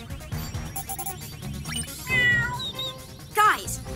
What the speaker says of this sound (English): I'm picking up bird and cat sounds coming from the park